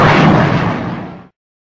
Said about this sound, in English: blown up by a hand grenade